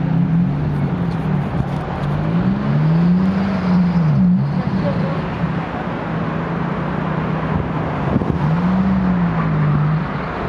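Road traffic with cars passing beside a segregated bike lane, steady engine and tyre noise with several rising and falling passes at close range, no voices.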